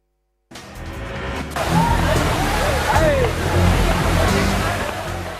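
Floodwater rushing after a dam break at Keoti in Darbhanga, Bihar, a dense, loud, continuous roar of churning water that starts abruptly after a brief silence and holds steady, with a voice faintly mixed in.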